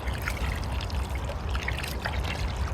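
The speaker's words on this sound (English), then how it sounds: "We've already mixed it into this watering can, and we're just going to go all around the root system like that." Seaweed solution trickles from a watering can onto a pepper plant's root system in a steady, faint stream, a soft continuous splashing and dribbling that holds evenly throughout.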